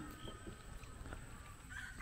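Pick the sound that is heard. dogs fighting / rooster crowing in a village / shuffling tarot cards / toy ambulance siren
rooster crowing in a village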